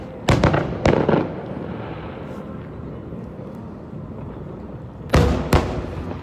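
Fireworks at a July 4 show in Seattle, loud sharp explosions in two close pairs, one near the start and one near the end, separated by a lingering rumbling crowd-and-air background.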